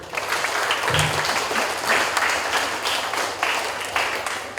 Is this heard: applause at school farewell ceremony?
yes